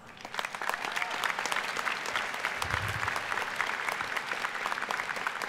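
Audience applause at the 2017 Heinz College diploma and awards ceremony, a dense, steady clapping from a large crowd that holds at an even level for the whole stretch, with no speech over it.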